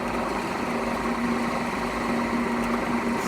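A drill bores into a tobacco pipe with a steady, continuous mechanical whine and hum at constant volume, close and unbroken throughout.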